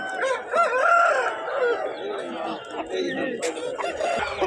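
At a weekly country chicken market in Nallapadu, a rooster crows loudly and repeatedly nearby, with clucking fowl and market chatter all around.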